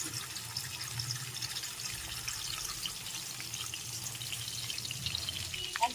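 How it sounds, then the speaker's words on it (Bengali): A fish head and fish oil frying in hot oil in a kadai, a steady bubbling crackle and hiss that carries on evenly, with a couple of sharper pops near the end. "এবার মাছের মুড়ো ভেজে নিতে হবে, সাথে মাছের তেলটাও দিয়ে দিচ্ছি।"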